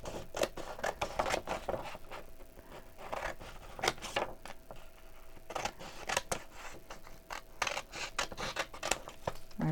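Scissors snip through paper ephemera in repeated short, crisp cuts with paper rustling between them, close and fairly quiet, with no talking.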